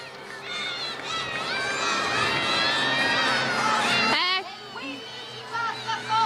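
Crowd of spectators, many of them children, cheering and shouting at the Palio das Cjarogules cart race in Paluzza, loud and sustained before easing off, with voices calling out over it.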